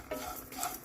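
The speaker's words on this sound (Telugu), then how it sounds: "ధనియాలు, గసగసాలు ఇవన్నీ వేయించుతున్నా" Peanuts, sesame seeds, coconut, cashews, coriander and poppy seeds being dry-roasted in a pan, with soft scraping stirs and light rattling of the seeds against the metal, fairly quiet.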